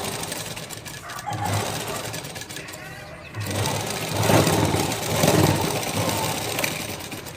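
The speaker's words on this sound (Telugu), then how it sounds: "ఇలా టాప్ స్టిచ్ చేసేసుకొని కుట్టేసేసుకోండి." A sewing machine topstitching a blouse runs in steady whirring bursts with a short pause in the middle, close and fairly loud, with a voice talking over it at times.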